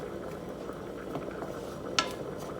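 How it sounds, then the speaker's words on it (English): Garlic and onions are stirred in a cooking pan, a soft continuous sizzle with light scraping and one brief metallic clink, close by and fairly quiet. "Give that a little stir."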